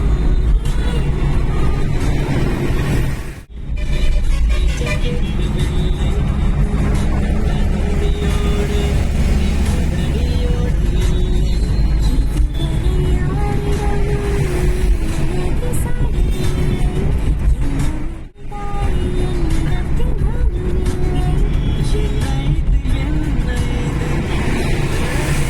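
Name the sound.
Toyota Innova and jeep driving on road, overtaking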